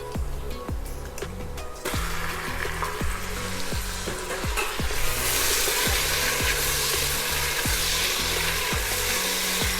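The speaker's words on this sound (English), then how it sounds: "At this point I'm going to add the lamb." Lamb pieces hit browned onions in a hot pan for daal gosht and fry with a loud, continuous sizzle. Repeated scraping stir strokes sound throughout, and the hiss swells brighter partway through.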